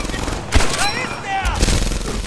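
Machine gun fire in Medal of Honor Allied Assault from an MG position: loud, dense gunfire with bursts around the middle, mixed with other battle sounds and a voice.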